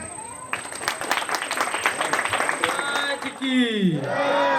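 An audience at a Navratri festival stage event in Ganganagar, Neral, breaks into a burst of lively clapping for a child's recitation, lasting about three seconds before a voice takes over on the microphone.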